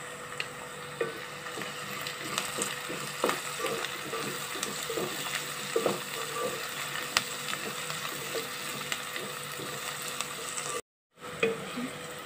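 Onions with turmeric frying in a pan for a tamarind-leaf egg curry, a low steady sizzle broken by repeated soft scraping stirs and light taps, moderately close with a brief silent gap near the end.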